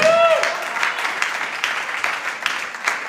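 A church congregation applauds during a sermon, a loose crowd clapping at moderate volume with scattered louder bursts, following a brief voice at the start.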